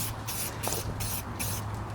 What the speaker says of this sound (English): I'm about to start painting it